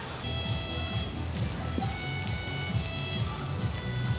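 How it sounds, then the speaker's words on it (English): Heavy rain falls steadily in Chengdu, China, a dense, continuous hiss of drops on surfaces that holds the same level throughout, with no voices. "heavy rain starting with little to no warning seems to be the common theme of today"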